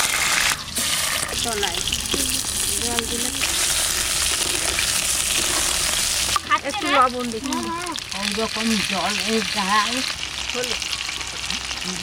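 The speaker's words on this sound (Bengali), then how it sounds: "তেল গরম হয়ে গেছে আলুগুলো ভেজে নেবো" Potatoes fry in hot oil with a continuous loud sizzle, and someone talks over it for much of the time.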